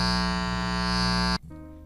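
Guitar amp buzzing when a finger touches the input jack, a loud, steady harmonic electrical hum that stops abruptly near the end and leaves a quieter residual hum.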